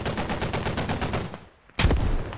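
Automatic gunfire in the tactical shooter Squad: a steady rapid burst of close shots for about a second and a half, a short lull, then a loud sharp volley with trailing echoes.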